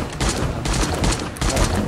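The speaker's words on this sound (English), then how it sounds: "And then we got backup turrets." Backup turrets in the video game 7 Days to Die fire rapid bursts of gunfire, loud repeated volleys with brief gaps between them.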